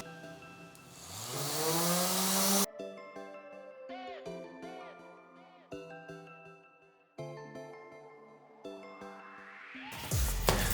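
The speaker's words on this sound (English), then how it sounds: "All I need to do is sand down this edge and sand down this edge, and it'll fit nice and perfect." A power sander grinds along the edge of a window panel cut for a gull-wing window on a Chevy Astro camper van, whining up loudly for a couple of seconds before music takes over.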